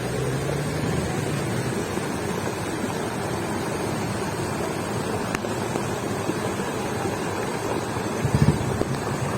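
Flooded Bhiman river water rushes in a steady, dense roar close by, broadband and unbroken throughout, with wind buffeting and no voices.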